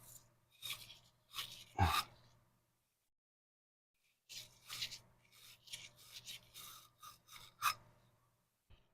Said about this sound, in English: So let's just give this a quick little scrub out